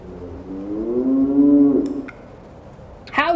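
A long, loud cow moo from a LEGO Minecraft animated adventure, rising and falling over about two seconds, followed by quieter ambience and a brief sharp sound at the end.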